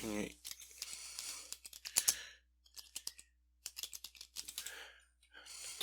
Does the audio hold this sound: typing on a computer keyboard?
yes